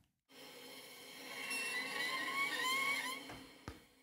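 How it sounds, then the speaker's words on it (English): A scratchy, bowed-string texture from a layer of an organic synth pad in Omnisphere, a single rising and falling swell of about three seconds, rough and grainy, played alone at low level. "So I love that scratchy bow sound that we've got there."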